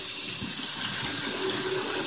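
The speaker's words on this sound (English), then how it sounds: "Pour them into a strainer. Just get them all washed off." Running tap water streams steadily through a strainer, rinsing canned dark red and red beans, a continuous close splashing hiss with no talking.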